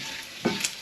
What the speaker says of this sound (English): bacon's rendering right down now